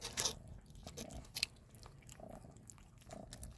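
Close, quiet crunching and chewing as a dog eats cat food, with irregular bites and soft mouth sounds against a faint background.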